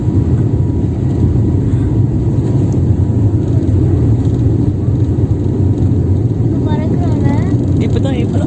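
Airplane cabin noise during flight: a loud, constant low rumble and drone fills the cabin, with faint voices surfacing near the end.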